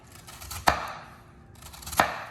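A knife chops down through an onion on a cutting board, two sharp, close thuds about a second apart with quiet handling between them.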